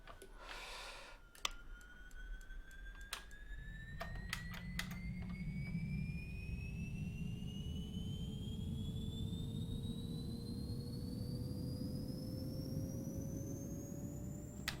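A Beechcraft 1900D turboprop engine spins up from start, its rising whine climbing steadily in pitch over a growing roar, with a few sharp clicks early on; loud and continuous, no talking.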